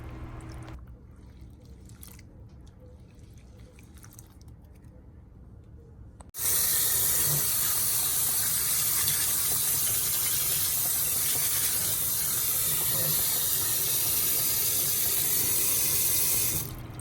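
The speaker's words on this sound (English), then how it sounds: "we're gonna rinse these off, and then we're gonna get them ready for the pot" Soaked baby lima beans are rinsed under a running kitchen tap: faint handling sounds at first, then a loud, steady gush of water that continues to the end.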